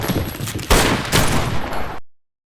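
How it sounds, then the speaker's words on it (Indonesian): A dense burst of film gunfire crackles close and loud for about two seconds, rapid shots blending into a fusillade before cutting off to silence. "Ross dan Anna tidak segan melepaskan tembakan."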